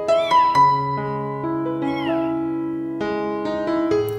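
A tiny kitten being bottle-fed milk gives several clear, rising meows close to the microphone, spread over about four seconds against a steady tonal background.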